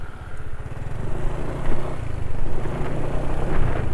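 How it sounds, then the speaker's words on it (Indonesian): A motorcycle engine idles on Pennzoil JASO MA 20W50 oil after about 37 km of use, a steady, fairly smooth low rumble with a fast regular pulse, close and without talk. "Suara mesin termasuk masih lumayan halus"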